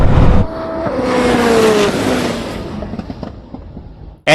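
A Koenigsegg Jesko races a Bugatti Chiron Super Sport 300+, a loud engine roar sweeping past with a falling pitch, then fading into a quieter rumble before a sudden burst at the end.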